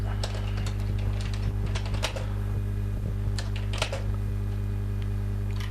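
Rapid clicking of a computer keyboard with irregular bursts of keystrokes over a steady low hum, typed at a near, moderate level with no talking.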